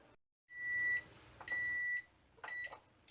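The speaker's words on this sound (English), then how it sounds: "timer's gone off" A kitchen timer beeps in three short bursts of steady electronic tones while dough rises for Italian hoagie rolls and the oven preheats; the beeps are fairly quiet, with brief gaps between them and no voices.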